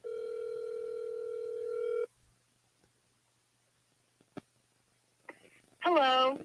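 On an outgoing prank call, a telephone ringback tone sounds as one steady two-second ring, followed by near silence, a few clicks and then a voice on the line.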